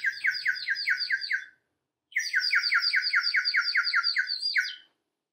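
Birds chirp in two fast, bright bursts of rhythmic tweets, close and clear, separated by a brief silence.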